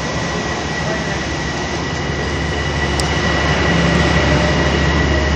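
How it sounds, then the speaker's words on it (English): A Metro-North train pulls out of Croton-Harmon station in Cortlandt, a steady loud rumble with rail hiss that swells slightly as it departs, no voices over it. "There goes our train."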